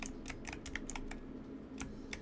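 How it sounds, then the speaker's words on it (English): Keys clatter on a computer keyboard in quick, uneven taps, quiet and close, with no talking over them. "I was trying to use the keyboard for the whole thing"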